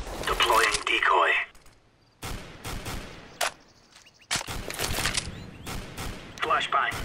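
A decoy grenade in the video game CS:GO gives off fake gunfire in sharp, irregular bursts of shots with short gaps between them. A player's voice talks over parts of it.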